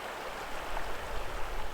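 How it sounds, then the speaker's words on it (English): A clear river below a dam rushes in a steady, broadband wash of flowing water, constant and fairly close, with no voices. "The river level fluctuates a lot because of the dam upstream, but it always runs pretty clear."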